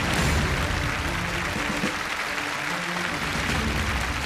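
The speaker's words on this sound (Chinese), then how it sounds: "让我们掌声祝他们好运" A studio audience at a televised stunt-challenge show claps in a dense, continuous round of applause that stays loud and steady for about four seconds.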